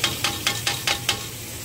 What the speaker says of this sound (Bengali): তো এবার এটাকে ভালো করে কষে নেবো